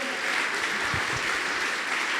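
A church congregation breaks into sustained applause, a dense, even wash of clapping from many hands at moderate distance, with faint voices mixed in.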